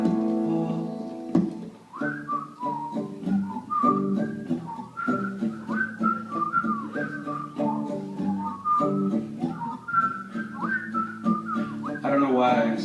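A person whistles a tune somewhat unsteadily, a long run of wavering melodic notes with a rhythmic pattern over background instrumental music, close and fairly loud.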